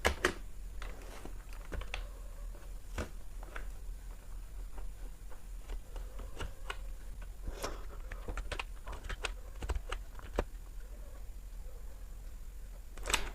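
Close keystrokes on a computer keyboard entering a date of birth in Photoshop, irregular clicks with short pauses and no talk.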